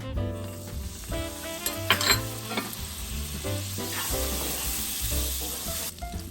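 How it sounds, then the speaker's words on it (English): Butter, a quarter cup, melting in a pan over medium heat, heard as a continuous sizzle with scraping stirs and light clinks of a utensil against the pan, close up, with no voices. "On medium heat, 1/4 cup of butter."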